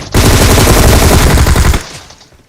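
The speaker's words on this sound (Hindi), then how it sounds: "मुझे आगे से गोली चलने की आवाज आती है" Sustained burst of automatic gunfire in the video game PUBG, loud and close, a rapid continuous stream of shots lasting under two seconds before cutting off into a fading tail.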